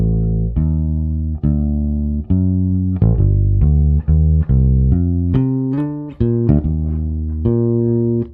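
Jazz bass line walking a root, fifth, third pattern, with about a dozen plucked notes in a steady rhythm, each ringing loud and close until the next.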